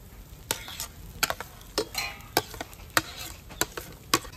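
Chopped potato added to kachori filling in a pan, heard as a series of sharp spatula taps and scrapes at a roughly regular pace over a light background sizzle.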